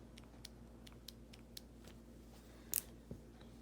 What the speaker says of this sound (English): You hear a clicking sound right after you squeeze it once